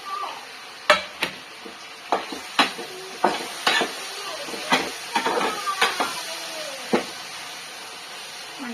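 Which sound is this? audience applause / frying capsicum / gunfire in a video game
frying capsicum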